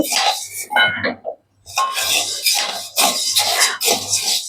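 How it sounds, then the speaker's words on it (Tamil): Idli podi spice mix is dry-roasted in a pan with a steady scraping and rattling of spices stirred against the metal, in repeated strokes with a brief pause, up close. "இப்போ இட்லி பொடி வறுக்க போகிறோம்"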